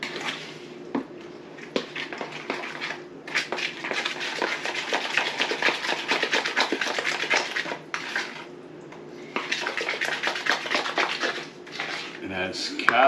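A spoon or utensil scrapes and clinks steadily around a bowl while pumpkin pull-apart loaf ingredients are stirred together, a close, continuous clatter with a couple of brief pauses.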